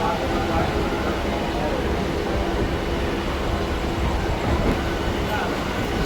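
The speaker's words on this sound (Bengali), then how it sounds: "দুদিকেই ট্রেন যাচ্ছে" Steady rumble of a train running along the tracks near Howrah, India, continuous and fairly loud, with a busy crowd murmuring over it.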